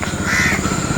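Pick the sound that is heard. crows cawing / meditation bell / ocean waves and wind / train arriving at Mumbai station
crows cawing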